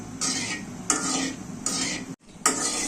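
Dried red chilies frying in a pan for Bangladeshi dal bhorta, stirred in several distinct scraping bursts over steady sizzle, with a brief pause near the end before another stroke.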